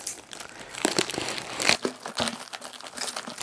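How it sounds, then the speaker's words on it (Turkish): A plastic bag crinkles and rustles steadily as a Seagate Backup Plus portable hard disk, a 6TB drive, is pulled out of its wrapping, with close, busy crackling bursts throughout. "Şimdi şöyle poşetinden çıkaracak olursak ürünü"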